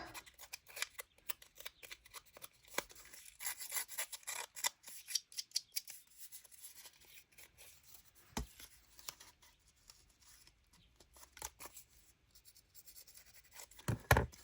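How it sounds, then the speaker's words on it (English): Scissor blades scrape repeatedly along a paper edge in quick, uneven strokes, close and crisp, with a few louder scrapes near the end. "run your scissors up and down"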